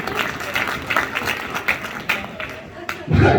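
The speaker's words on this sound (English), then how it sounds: "Give another round of applause." An audience at an Elks Lodge event breaks into a steady patter of applause that runs the whole stretch, with a voice speaking over the clapping and a louder low burst near the end.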